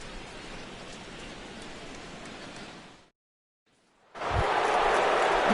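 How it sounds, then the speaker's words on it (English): Steady hiss of rain falling over a ballpark during the sixth inning of an MLB 17 baseball game, loud and continuous, cutting out briefly to silence before resuming even stronger. "Rain continues to fall here in the 6th."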